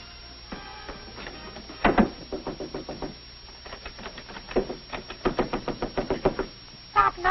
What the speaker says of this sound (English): Stop knocking at that door.